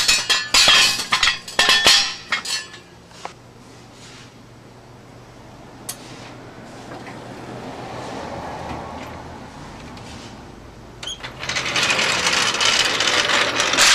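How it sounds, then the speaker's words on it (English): Car wheel lug nuts being tightened with a torque wrench, heard as sharp metallic ratchet clicks and clinks in bursts, then a quieter stretch with a few isolated ticks and a final busier patch of clicking. "Use the torque wrench to torque the lugs to the right specifications"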